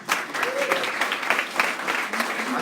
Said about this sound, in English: So we'll give a round of applause, please.